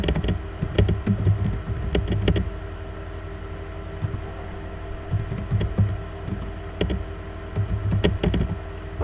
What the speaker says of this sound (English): type in your own institution's name